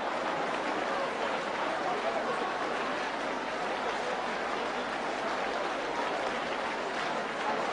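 A church congregation clapping hands together in a steady, dense, continuous wash of applause that fills the room without pause for several seconds.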